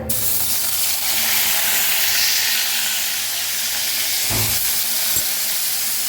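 Fish fries in a hot wok with a continuous loud sizzle and steamy hiss, interrupted by a couple of short stirring knocks.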